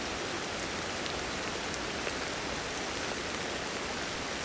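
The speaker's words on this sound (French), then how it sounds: "Vous pouvez voir qu'il pleut" Steady rain in the video game Ancestors, a dense, even hiss of falling drops that stays constant throughout with no voices.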